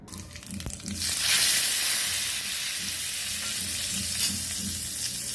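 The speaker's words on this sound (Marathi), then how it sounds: "जिरं मुरी आणि हिंग ह्याची फोडणी मी दिली ह्याला" Cumin and asafoetida tempering in hot oil bursts into a loud, close, continuous sizzle after about a second and keeps crackling steadily to the end, with no voices.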